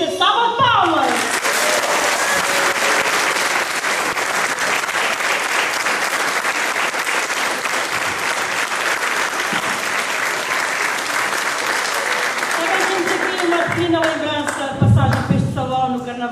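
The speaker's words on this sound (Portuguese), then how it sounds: "o que a gente tem hoje para oferecer é uma grande sentida salva de palmas" A carnival crowd in Porto Judeu, Terceira, in the Azores claps in a long, steady, loud round of applause that carries on for most of the span, with voices mixed in near the end.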